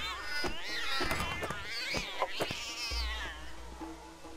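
Cats in the Ankh video game let out a rapid string of loud, close meows and yowls that overlap one another and trail off near the end.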